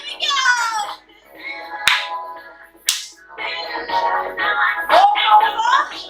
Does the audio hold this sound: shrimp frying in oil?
no